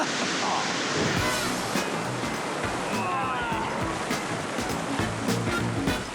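A waterfall roars with a dense, steady rush of falling water, loud and continuous, with faint voices and splashes in the background.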